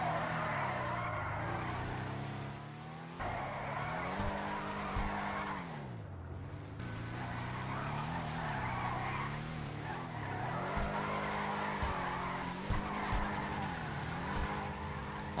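A Deviant muscle car of nearly two tons skids and spins on a racing circuit in GTA 5, with a loud, continuous engine roar under long, wavering tire squeals that rise and fall, close up and without voices.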